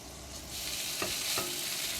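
Rice with green peas and chili being stir-fried in garlic oil in a pan: a steady broad sizzle that swells louder midway, with two short scraping stirs of the spatula, no voices.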